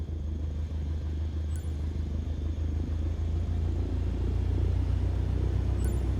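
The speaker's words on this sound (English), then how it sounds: "Now, gently increase throttle to get the aircraft moving." In Microsoft Flight Simulator 2020, an aircraft engine throttles up to taxi, giving a steady, heavy low rumble that holds even and continuous, with no talk over it.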